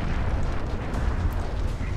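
Steady, heavy rumbling blast noise, loud and continuous, a sustained explosion during bombardment in the video game Far Cry 4, without any voices.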